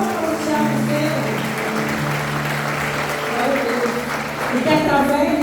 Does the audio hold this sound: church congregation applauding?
yes